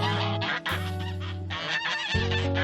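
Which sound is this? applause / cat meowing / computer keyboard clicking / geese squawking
geese squawking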